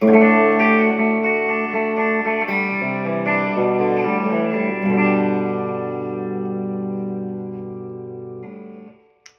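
A clean electric guitar, Iron Label Seer on the bridge pickup through a Blues Junior amp, plays ringing chords and single notes with light reverb, sustaining and fading out at the end. No voices.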